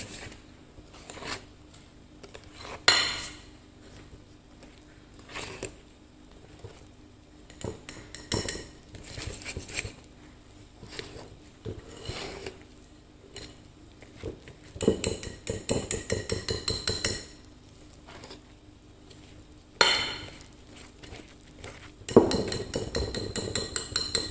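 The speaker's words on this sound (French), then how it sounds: "je vais rajouter de la farine progressivement. Doucement et mélanger au fur et à mesure" Flour being mixed into caramel shortbread dough in a bowl, with a utensil clinking and scraping against the bowl in irregular bursts, busier toward the end, close and without talk.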